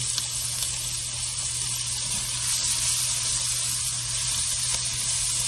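Diced yellow onion sautéing in a pan, with a steady, close hiss and crackle of frying that holds evenly throughout with no talking.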